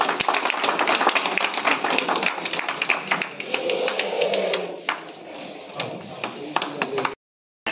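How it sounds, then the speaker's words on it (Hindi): An audience at a Banda traders' association meeting breaks into brisk, close applause, many hands clapping densely for about seven seconds before it thins and stops abruptly. "तालियां तो बजाइए एक बार"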